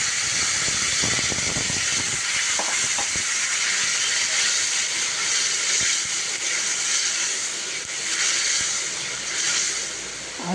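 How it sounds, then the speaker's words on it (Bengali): Water poured into a hot pan of lightly fried potatoes for a fish curry sends up a loud, sustained steamy hiss that swells and eases across the whole stretch, with a few clatters early on. "এবার দিয়ে দেবো ওর মতন জল।"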